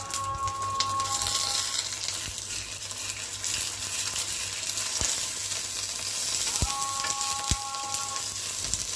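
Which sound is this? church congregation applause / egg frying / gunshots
egg frying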